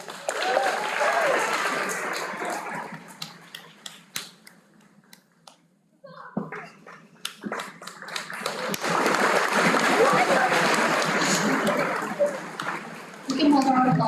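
Audience applause at the Mattlin Middle School moving-up ceremony, with dense clapping that thins out midway, then swells again, while a voice reads names over a loudspeaker.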